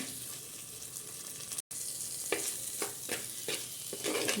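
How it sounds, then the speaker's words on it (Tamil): Whole black peppercorns sauté in a pan with a bright, steady sizzle, broken by a momentary dropout, then repeated scraping strokes of a spoon through the hot oil. "நல்லா வதக்கிப்போங்க இதை பச்சை வாசனை போகிறது வரைக்கும்"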